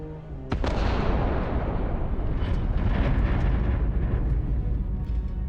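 A pistol firing and explosions in Starfield: one sharp, loud blast leads into a sustained rumbling roar with scattered cracks on top, steady and powerful until the end.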